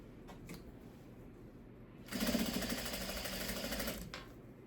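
Sewing machine stitching fabric pieces for a crazy quilt, a close, steady whirring run of about two seconds between quieter moments of handling.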